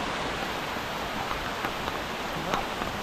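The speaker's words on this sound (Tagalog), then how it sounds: "Ang ulan." Steady rain at a resort-style place, a dense even hiss with scattered faint drops tapping on surfaces, continuous and fairly close.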